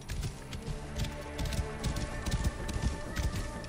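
Horse hooves clip-clopping in a quick, uneven rhythm in the game Assassin's Creed Origins, close and fairly loud, with no clear neigh standing out.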